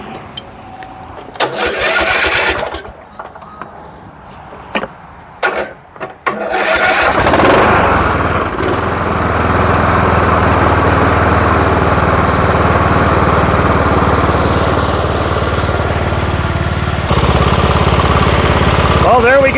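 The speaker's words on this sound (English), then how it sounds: "It runs without any help. Motor don't sound too bad." A 2013 Cub Cadet LTX 1040 lawn tractor that sat unused for years cranks in short bursts, then starts and settles into a loud, steady engine run, close by, with a slight rise in pitch late on.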